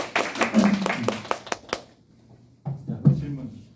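A small audience claps in a short burst of a dozen or so sharp, distinct claps that fade out, followed after a pause by a voice speaking.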